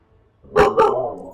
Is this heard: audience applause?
no